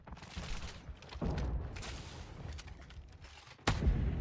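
Rapid gunfire from a Death Machine minigun in PUBG Mobile, a dense, continuous spray of shots with sharper bursts near the start and a loud burst at the end.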